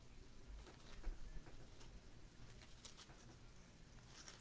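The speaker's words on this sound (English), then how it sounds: "It's just raining right now." Rain falls steadily outside after a storm, a faint continuous patter with scattered brighter drips and taps, distant and low in level with no talk.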